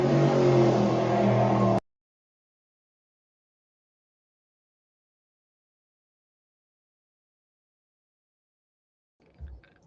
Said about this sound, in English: I had the windows open tonight, so I'm going to have to mute a couple of times when those louder cars come by.